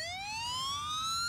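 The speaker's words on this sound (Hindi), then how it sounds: "ये सायरन बज रहा है इसके अंदर" A mobile phone's motion-detection anti-theft alarm wails, a bright electronic siren steadily rising in pitch, loud and continuous with no voices over it.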